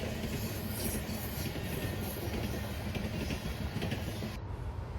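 A Norfolk Southern eastbound manifest freight train rolls past, a steady dense rumble and rattle of cars sustained at even loudness throughout, close by, with no voices.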